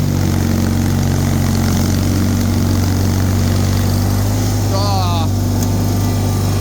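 A Bolens HT23 garden tractor engine running a snow blower through heavy, melting deep snow drones loud and steady the whole time, close up, with a constant rumbling hum and no pauses.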